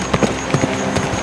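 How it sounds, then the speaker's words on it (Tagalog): A frightened horse, scared by the wind, bolts away in a quick burst of clip-clopping hoofbeats that is brief and fairly loud. "At ang kabayo na natakot sa hangin ay tumakbo papalayo."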